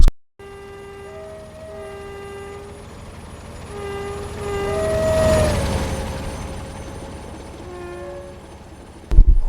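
A Class 47 diesel locomotive in a train simulator game passes Selhurst Station, its engine drone building and fading with steady tonal horn-like notes sounding repeatedly over the run, no talk.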